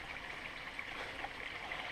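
Gunsight Creek runs over rocks along a mountain trail in a soft, steady, even rush, faint and continuous with no talk or other sounds over it.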